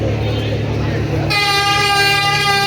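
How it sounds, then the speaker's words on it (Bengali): The passenger launch Kuakata 2 sounds a long, loud, steady horn blast while reversing away from Barisal ghat, following a stretch of low rumbling engine and harbour noise. "কুয়াকাটা 2 কিন্তু বেশ চমৎকারভাবে হর্ন বাজিয়ে ব্যাক গিয়ারের প্রক্রিয়া সম্পন্ন করবে আর কি"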